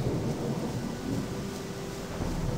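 Rain and thunder in the video game Gothic, a dense steady hiss of rainfall with low rumbling underneath, continuous and fairly loud with no talking.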